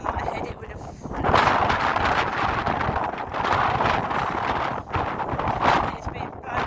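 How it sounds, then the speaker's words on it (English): Strong wind on an afternoon walk buffets the microphone in loud, rough gusts that rise and fall, and a voice speaks under the roar. "It's windy, very windy."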